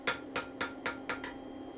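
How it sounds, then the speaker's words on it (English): Steel hammer blows striking metal while forging points, five sharp rhythmic strikes about a quarter second apart, the last one lighter, at close range with no talk. "the hammer's just going up and down"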